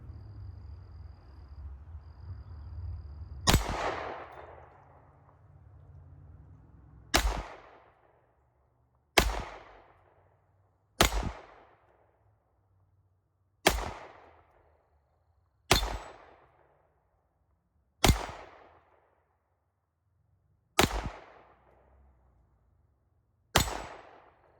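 A 1911 G-Force Arms Chronicle 9mm pistol firing Blazer aluminum-case ammunition: eight sharp, loud shots spaced a second or two apart, each with a short ringing decay, after a stretch of low ambient rumble.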